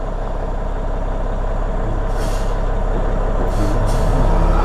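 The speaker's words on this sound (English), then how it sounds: "going to turn this truck around, and hasn't got a great deal of room" A truck manoeuvring backwards and forwards to turn around in a tight space, a loud, steady diesel engine rumble close by with short hissing bursts of air brake.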